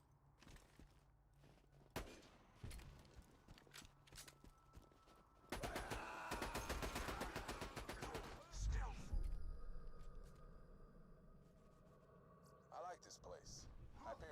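Rapid bursts of gunfire in the Borderlands video game, played as Zer0, crackle in a dense volley through the middle of the stretch. Scattered single shots and footstep-like clatter surround it, with a person talking over the action.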